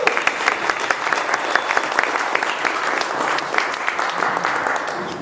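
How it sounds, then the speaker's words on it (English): An audience at a Fifty Founders event in Detroit breaks into dense, sustained clapping to welcome a guest; the applause is close and lively for the whole stretch. "if everyone turns around and just clap for her for a second"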